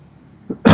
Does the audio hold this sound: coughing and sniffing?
yes